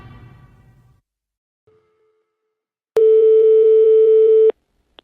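A steady telephone tone of about a second and a half sounds loud and close as a call is placed to the gendarmes, following a short burst of indistinct room noise and a brief faint click.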